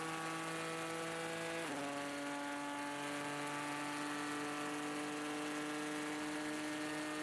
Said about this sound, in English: the V6 turbocharged Ford EcoBoost engine sounds absolutely amazing as they go